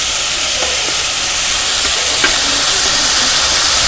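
Tomatoes and green chillies sizzle in hot oil in a biryani pan, a loud, continuous hiss that stays even throughout with no talk.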